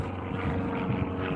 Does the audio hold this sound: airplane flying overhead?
yes